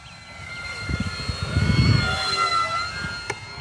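An E-flite P-51D Mustang 1.2 m RC model plane drones through the air, its motor buzz swelling as it passes nearer and then easing off, with steady wind noise and no speech.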